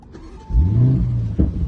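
A $500,000 supercar's engine cranks and catches after its start button is pressed, a short deep rumble swelling up and holding, close and fairly loud.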